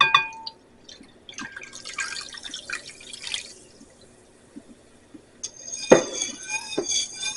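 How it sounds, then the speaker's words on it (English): Chilled ginger ale is poured into a drink, bright fizzing and splashing bursts in a glass container, with clinks and a sharp splash near the end, close and alone. "We're going to add in our ginger ale."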